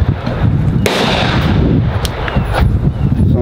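Shots from a brand new AR-15 rifle sound as sharp cracks over continuous loud rumbling background noise, with a couple of distinct reports standing out.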